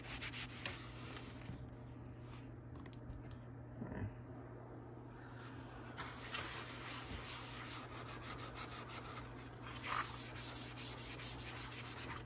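Rubbing dirt off an Atari Paperboy arcade control panel overlay, a faint scratchy scrubbing with soft rhythmic strokes and a few light knocks, under a low steady hum.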